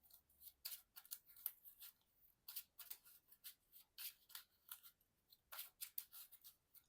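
Playing cards from the Marvel Champions card game being reshuffled by hand, a quiet run of crisp riffling bursts in uneven rhythm, close and faint, with no talking.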